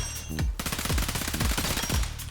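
Submachine gun firing in the shooter Weird Gun Game: several short rapid-fire bursts, close and loud, with brief pauses between them and no talking.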